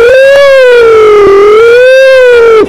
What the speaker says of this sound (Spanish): La sirena.